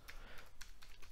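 A few soft, quick taps on a computer keyboard press a key combination, faint and close with no talking.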